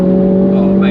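Mini GP3 engine droning steadily under driving, a loud continuous tone from inside the car with no change in revs across the brief moment.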